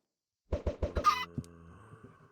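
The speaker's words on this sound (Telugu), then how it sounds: "కోడి పిల్ల వచ్చిందిరా." A Minecraft chicken clucks in a quick series of four or five short, clipped game-sound clucks followed by a fading tonal tail, heard alone and close.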